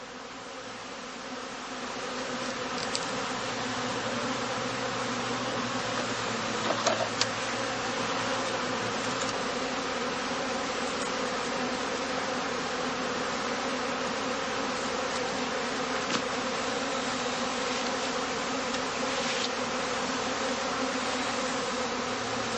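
Honeybees buzzing around a traditional straw skep hive in Germany, a dense continuous drone of many wings holding steady at close range with small shifts in intensity.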